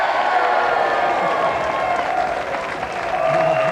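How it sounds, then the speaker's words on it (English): A studio audience applauds the winner on a television games show, producing a continuous wash of clapping and crowd noise at an even level. "Another round of applause for our winner"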